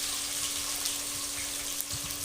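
Water is poured into a kadai to boil for rice while cooking Telangana-style chicken dum biryani, making a steady, close rush of running water with no voices for about two seconds.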